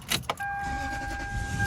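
A couple of quick clicks and a short crank give way to a Lexus LS430 engine catching and settling into a steady idle, with a faint whine.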